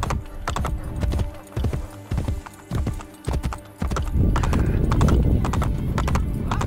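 Horses trot with sharp clip-clop hoofbeats and a whinny in Assassin's Creed Brotherhood, the hooves coming in uneven bursts at first, then merging into a dense, loud rumble of galloping and movement.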